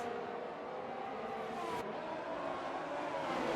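Race car engines in F1 22, on the Brazil circuit, whine steadily at a moderate level, with one car's note passing briefly midway, a continuous high-pitched drone without talk.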